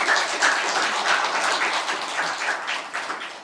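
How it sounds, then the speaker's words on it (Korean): A church congregation claps for its choir during a Sunday worship service, a brief, even burst of applause filling the room without voices. "박수로 우리 격려합시다."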